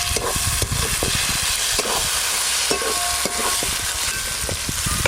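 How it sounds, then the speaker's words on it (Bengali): Peas and chopped ripe tomato sautéing in spiced oil, a steady close sizzle with repeated scraping and stirring clicks of a spatula against the pan throughout, with no voices. "সব কিছু একসঙ্গে বেশ ভালো করে কষে নিয়েছি।"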